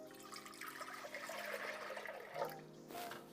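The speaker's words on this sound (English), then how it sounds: "So we're gonna do 4 cups of milk," Milk poured into a pot for dulce de leche, a faint, continuous liquid rush and splash close by, swelling slightly near the end.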